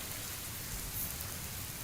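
Steady rain in the survival game Sheltered 2, a dense even patter of drops falling without a break, alone and fairly soft.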